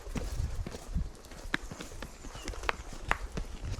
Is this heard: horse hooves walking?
yes